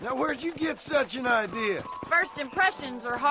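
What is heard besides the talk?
No distinct noise like a dog, phone or traffic.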